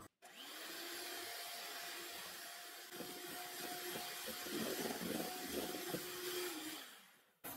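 An electric hand mixer whirs steadily while beating sugar together with margarine and oil for a carrot brownie batter, its motor hum holding close and even for several seconds before cutting off at the end.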